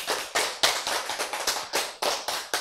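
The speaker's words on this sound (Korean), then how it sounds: "박수!" Church congregation clapping at a sermon, a brisk series of crisp, evenly spaced claps with no voices over them.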